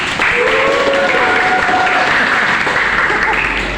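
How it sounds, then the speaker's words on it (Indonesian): A classroom of students claps steadily and loudly throughout, the dense applause running without pause while voices murmur underneath. "Tepuk tangannya dong"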